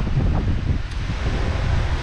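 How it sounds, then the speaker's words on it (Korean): Sea waves wash onto the shore at Moalboal, Cebu, a steady rushing surge mixed with wind buffeting the microphone, loud and close with no voices. "바다 소리 들으면서"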